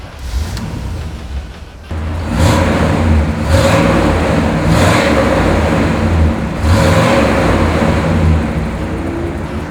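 A 1966 Pontiac GTO Tri-Power V8 convertible revs and pulls under load, its engine rising in a few strong surges over a steady, rumbling drone, loud and close, with no talk.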